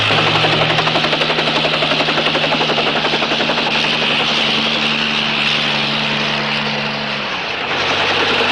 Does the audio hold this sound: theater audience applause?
no